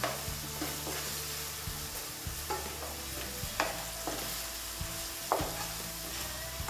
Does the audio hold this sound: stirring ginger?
yes